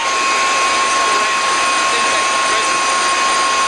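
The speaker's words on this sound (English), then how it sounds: "It's interesting to see them making snow with this equipment." A snowmaking machine with a high-speed impeller at a ski resort gives a loud, continuous high-pitched whine with a steady rushing roar and no breaks.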